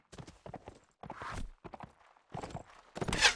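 Horse hooves in a team match of a medieval-style video game, with rapid clip-clop hoofbeats in quick clusters, fairly faint and close, ending in a louder clatter.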